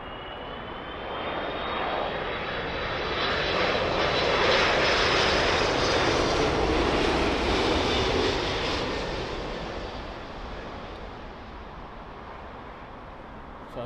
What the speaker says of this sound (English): we've got A330 Delta Airlines in from Atlanta